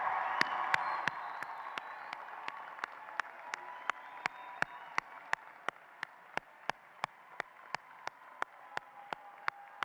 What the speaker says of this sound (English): Let's give our graduates one more rousing round of applause.